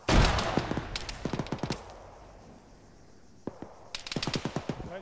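Rifle and machine-gun fire from the right in the ShackTac Arma video game arrives as rapid clustered bursts, a quiet lull, then another close rattling volley.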